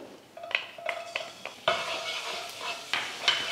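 Garlic sizzles in four tablespoons of hot oil in a pan while a utensil stirs and scrapes against the metal, giving a steady close frying hiss broken by short clinks and scrapes.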